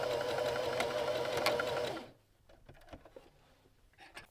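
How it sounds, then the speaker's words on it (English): A sewing machine runs steadily for about two seconds, tacking a shirt's facing down to its seam allowance, then stops, leaving faint clicks and small handling sounds. "To tack your facing down to the seam allowance on each side, maneuvering your shirt so that your stitch is only going through the facing and the seam allowance layers"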